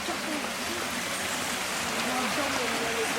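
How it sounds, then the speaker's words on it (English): A river in St. Thomas, Jamaica, flowing in a steady, hissing wash of water that holds even throughout, with faint speech-like sounds in the background. "Over here is a river"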